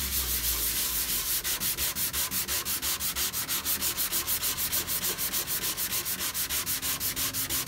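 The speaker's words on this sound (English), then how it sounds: "now I'm going to sand a bit of area here with brand new 240 grit sandpaper" A composite aircraft wing is rubbed with fresh 240 grit sandpaper in fast, steady back-and-forth strokes, a close, continuous scratchy rasp with an even rhythm and no talking.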